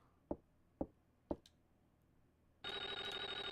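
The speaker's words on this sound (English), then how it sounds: "Answer the phone!" Telephone ringing in the 1995 Super Nintendo horror game Clock Tower: three sharp knocking clicks, then a loud steady electronic ring with a pulsing, repeating pattern begins abruptly and continues to the end.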